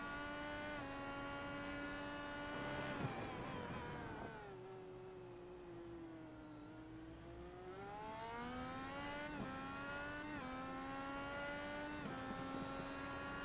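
IndyCar race car engine on the iRacing simulation of Circuit of the Americas, a continuous high-pitched whine rising and falling through gear shifts, loud and close with several revving surges and one long dip in pitch.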